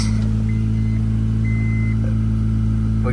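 A 1997 Honda Accord engine idles steadily and loudly up close, a continuous low rumble with a faint high tone briefly rising above it.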